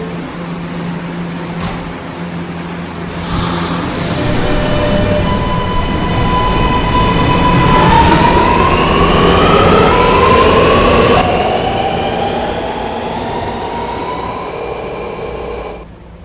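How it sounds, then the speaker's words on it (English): A 53rd Street bound R211 R local subway train departing Gates Avenue station on the N line, a loud rising whine of motors and rumbling wheels that swells, sustains, then eases as it pulls away. "53rd Street bound R train via the N line"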